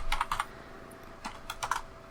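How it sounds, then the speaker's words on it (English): Computer keyboard keys clatter in quick bursts of typing, close and crisp, with short pauses between clusters of keystrokes and no speech. "I'm typing."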